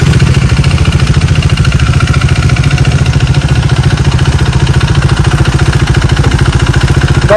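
A motorcycle engine idles steadily at close range in Kathmandu before a ride, with a loud, even thumping pulse and light mechanical clatter that holds throughout and no talking.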